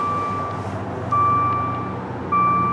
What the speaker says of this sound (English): I do have the vehicle's power on, that's why it's kind of beeping at us.